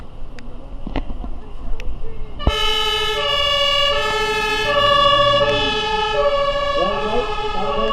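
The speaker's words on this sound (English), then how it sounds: "There goes the fire engine." A fire engine siren wails loudly and steadily, rising and falling as the truck passes close by at a half marathon in Menai Bridge, Anglesey, after a few sharp knocks at the start.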